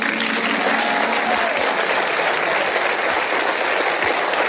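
A large audience applauds dancers at the final of a talent competition, a dense, steady roar of clapping that holds loud and unbroken throughout, with faint voices mixed in.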